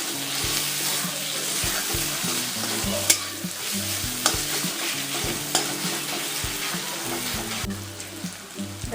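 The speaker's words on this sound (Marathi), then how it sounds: "हा ठेचा यामध्ये घालायचा आणि चांगला असा परतवून घ्यायचा दोन ते तीन मिनिटांसाठी" Crushed roasted green chilli and garlic thecha with spring onion sautéing in a pan, steady sizzling under repeated spatula scrapes and a few sharp knocks against the pan, alone and close.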